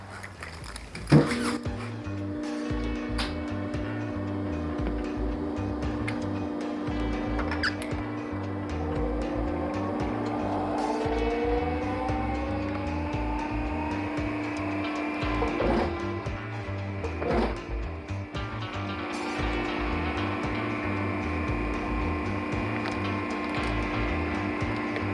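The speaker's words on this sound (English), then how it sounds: "Okay, I'm gonna punch this out. It's gonna get a little loud when I turn this machine on." An electric punch machine runs steadily while cutting gold vinyl for a guitar strap, a continuous loud mechanical hum with a sharp clunk near the start and faint rising whines and squeaks layered over it.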